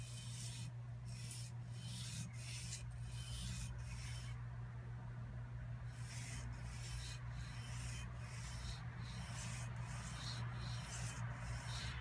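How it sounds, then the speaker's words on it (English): A knife blade is hand sanded near the tang in long, steady rasping strokes with a regular back-and-forth rhythm, close and fairly quiet, with a faint constant hum underneath and a short pause midway. "which is why I do a lot of truing up on the hand sanding"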